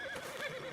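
A horse in the Red Dead Redemption 2 video game gives a short, close, wavering neigh.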